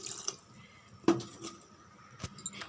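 Water poured from a tumbler into a pot of brinjal biryani, with soft dripping and splashing and a few sharper clinks, faint and close, with no talking.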